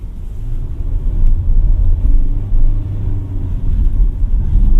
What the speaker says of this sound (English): it's a peppy little motor